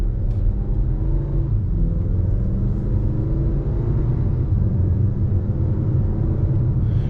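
A 2024 Acura TLX A-Spec's turbocharged engine drones low and steady from inside the moving car, carrying a faint whooshing intake sound over the constant road rumble.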